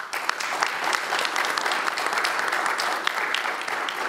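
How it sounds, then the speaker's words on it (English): Audience at a business plan competition applauding the finalists: dense, steady clapping from a crowd, fairly close and loud, sustained for the whole stretch. "so let's all applaud them"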